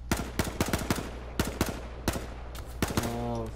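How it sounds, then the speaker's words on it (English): Rapid bursts of gunfire from a shooter video game crack in quick clusters, loud and sharp, with short pauses between volleys and a ringing tone near the end. "Shoot him back"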